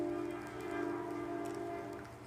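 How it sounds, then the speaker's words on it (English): A passing train gives a sustained low mechanical drone with a steady tonal hum, fairly faint and continuous, with no one talking. "The train."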